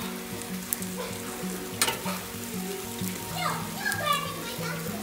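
Spaghetti with hamburger meat sizzling and frying on a Blackstone griddle after a splash of water, a loud continuous sizzle with stirring scrapes, while music plays and a voice is heard in the background.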